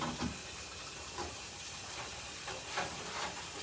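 Bacon frying in a pan, a steady close sizzle and hiss with a few brief louder crackling pops scattered through it, no talking.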